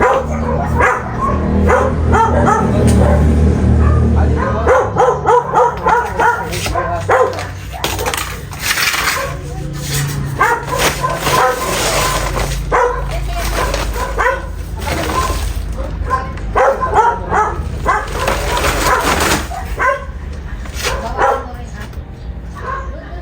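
Dogs in a yard bark repeatedly and whine after a fight with a cobra, with loud, close bursts of barking and yelping and voices talking over and between them.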